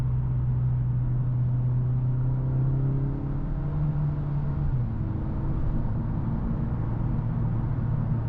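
A Mercedes-AMG A45 S 4MATIC hatchback, 421 hp, drones from inside the cabin while driving, a loud steady engine hum that shifts pitch as revs change, with no talking.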